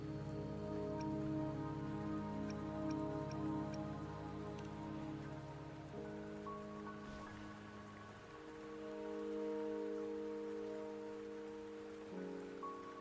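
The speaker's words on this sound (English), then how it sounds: "The rain won't last much longer." Steady rain pattering on surfaces in the game Wuthering Waves, a dense, even hiss running throughout beneath sustained tonal music.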